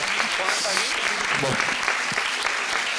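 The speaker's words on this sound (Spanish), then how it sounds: "un aplauso fuerte para los dos" Loud, dense applause from a crowd fills the whole moment, steady clapping with a few voices calling out underneath.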